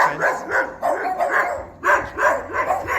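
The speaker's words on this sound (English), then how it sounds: "there's some more dogs behind this fence greeting us" Several dogs bark from behind a fence on a residential street in Prashad Nagar, Georgetown, a loud, close, rapid series of repeated barks and yips with brief pauses, heard without talk.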